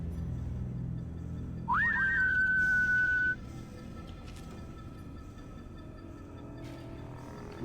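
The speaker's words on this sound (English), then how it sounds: "Why was there a whistle?" A short whistle sounds in Fallout: New Vegas, a single rising then held tone lasting about a second and a half over quiet game ambience, with no speech.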